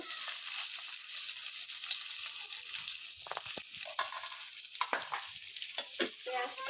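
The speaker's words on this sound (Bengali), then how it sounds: "একটু হালকা ভাজা ভাজা করে দিব" Onions fry in fish oil with a soft continuous sizzle, broken by scraping and stirring clicks from a spatula against the pan, fairly quiet and with no one speaking.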